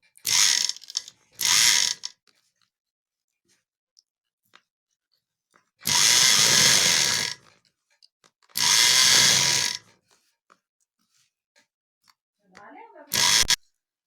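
A sewing machine stitches a blouse seam in short bursts of fast mechanical whirring separated by silent pauses, close and clear, with a brief voice near the end.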